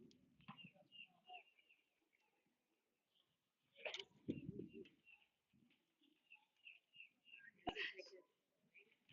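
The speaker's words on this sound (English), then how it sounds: "Birds chirping." Birds chirp and coo in short, scattered bursts on a quiet evening at a high school baseball game, with a few sharper sounds between calls and no talk.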